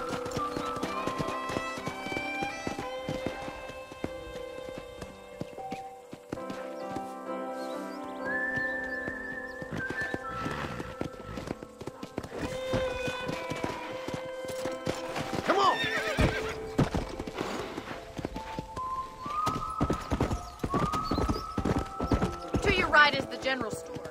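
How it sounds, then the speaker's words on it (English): Horse hooves clip-clop steadily with several whinnies in Red Dead Redemption, set over game music and ambient tones, with voices talking throughout. "let's see if you can still ride a horse"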